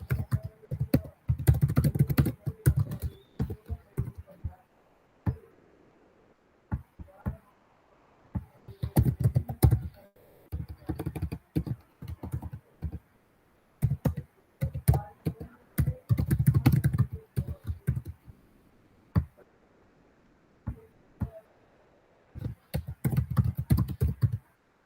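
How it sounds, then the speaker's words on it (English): Keystrokes on a computer keyboard come in uneven bursts of rapid clicks separated by short pauses, moderately close and clear, with no voices. "Meanwhile, I'm typing."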